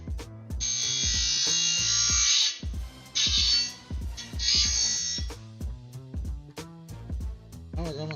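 An angle grinder runs in bursts in a workshop during an aircraft build, giving loud high whining stretches separated by short gaps, while steady rhythmic music thumps underneath throughout.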